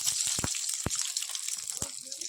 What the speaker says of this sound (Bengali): এবারে তেলে দিয়ে দেবো গোটা এলাচ দারচিনি আর লবঙ্গ ফোড়ন দেবো